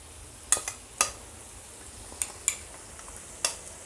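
A ground coconut and peanut masala goes into a hot frying pan for stuffed brinjal, giving soft sizzling with a few sharp stirring clinks and scrapes, close and quiet, with no talk.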